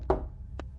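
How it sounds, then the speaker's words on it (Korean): Knocking on an apartment door: two dull knocks about half a second apart, the first louder and fuller, the second lighter, close and short with no voices. "두 번째로 문을 두드리자"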